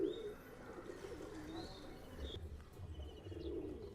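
Flying-breed pigeons coo softly in low, rounded bursts with a few faint chirps at a pigeon market, the murmur steady and fairly quiet throughout.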